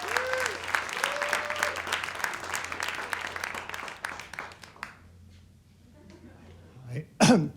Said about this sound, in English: Let's give a warm round of applause for Michael Kovacs.